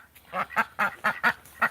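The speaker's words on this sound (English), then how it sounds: "He's a very calm duck" A calm duck on a snowy day quacks six times in a steady rhythm, each quack loud and close, with no voices over it.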